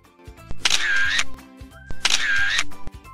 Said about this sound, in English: Camera sound.